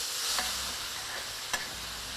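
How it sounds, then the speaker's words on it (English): Pork pieces with small bits of lemongrass are stirred in a hot wok, giving a steady close sizzle with a couple of sharp scrapes of the utensil against the metal. "Keep moving the meat around in the wok, otherwise those small pieces of lemongrass might catch and burn"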